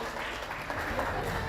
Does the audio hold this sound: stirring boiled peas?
no